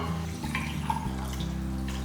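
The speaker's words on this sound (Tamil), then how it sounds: "அதனால் இன்னும் கொஞ்சம் தண்ணி சேர்த்துக்கலாம்." Water is poured into a thick kuzhambu curry that is heating in a pot but not yet boiling. A soft, steady splashing runs under a low, constant hum.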